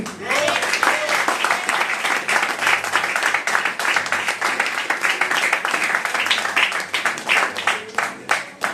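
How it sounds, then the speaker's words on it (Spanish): A church congregation breaks into sustained, dense applause and clapping, with voices cheering and shouting throughout. "Denle un aplauso a Jesús"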